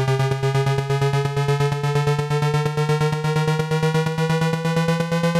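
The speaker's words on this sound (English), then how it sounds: "using the pitch bend wheel, I bring both the oscillators up one octave together" A buzzy, rapidly pulsing synthesizer tone from two oscillators plays steadily, its pitch gliding gradually upward by one octave via the pitch bend wheel across the clip.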